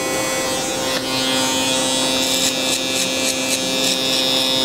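An electric hair clipper buzzes steadily during a low fade haircut, held upside down to trim the lower section, a loud close continuous hum with small shifts in pitch as it moves through hair.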